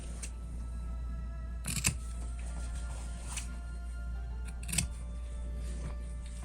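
Scissors snip the corners of sewn fabric in two or three short, crisp cuts over a steady low background hum.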